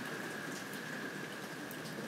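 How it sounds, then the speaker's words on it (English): Heavy rain pouring down outside a screened patio room, a steady, even hiss of drops hitting surfaces, fairly soft and constant with no talking. "Oh, it's raining hard out. Wow, it is really coming down."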